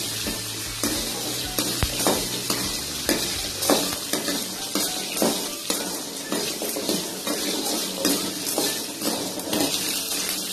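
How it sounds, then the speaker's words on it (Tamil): Garlic and onions sauté in a pan for capsicum chutney, giving a steady close sizzle broken by repeated scrapes and clinks of a spoon stirring against the metal, with no talking. "பல்லு பூண்டு, இது எல்லாத்தையும் போட்டு நல்லா வதக்கிக்கோங்க"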